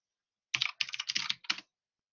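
Quick bursts of computer keyboard typing while searching for a folder, close and crisp, several short clusters of keystrokes with brief pauses, no voices.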